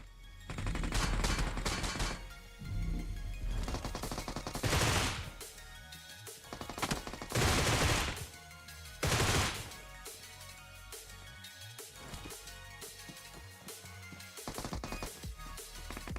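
Bursts of PUBG Mobile gunfire crackle through a tournament finals match, with repeated rapid automatic volleys and single shots rising over a constant game soundtrack, loud and dense with short quieter gaps.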